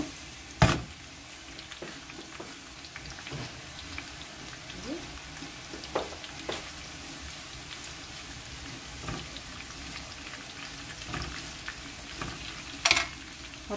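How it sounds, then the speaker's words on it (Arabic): Green peppers fry in hot oil with a garlic clove in a pan, a steady close sizzle that runs throughout, broken by occasional stirring clicks and one or two sharp utensil knocks. "ودابا هنا غادي نضيف ليها هاد الفلفل هادي"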